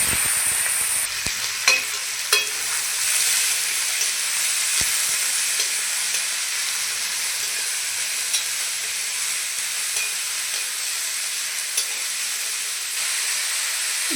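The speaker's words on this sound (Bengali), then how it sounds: "দেখুন, পেঁয়াজ আর লঙ্কা ভালো করে ভেজে নিয়েছি। এখন আমি শসা কেটে রেখেছি দিয়ে দেবো।" Cucumber is frying in a pan with onion and chili, giving a continuous close sizzle and hiss with occasional soft stirring clicks and no talking.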